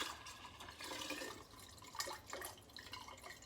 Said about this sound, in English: The buttermilk that's in there, I'm going to try to pour it off without getting much of that butter in it.